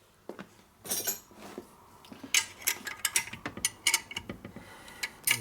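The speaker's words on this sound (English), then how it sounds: "Torque a little bit harder now." A torque wrench ratchets on a 1961 Harley-Davidson Sportster XLCH Ironhead engine during a rebuild, giving faint, close metallic clicks in irregular runs that grow busier and denser toward the end.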